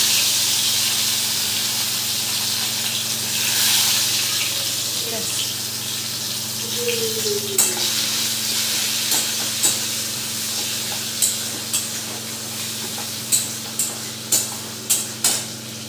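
Crushed garlic with cumin, black cumin and dried chillies sizzles in hot oil in a pan, a steady broad hiss with rhythmic scraping stirs growing sharper toward the end, while a voice talks over it.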